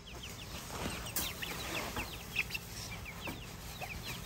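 Several chickens clucking nearby in short, repeated calls, with a faint high electrical whine running underneath.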